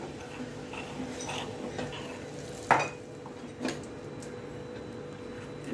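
Kashmiri red chilli powder being stirred into slightly cooled oil in a pan, with soft scraping and a faint sizzle plus two sharp metallic clinks of a spoon against the pan.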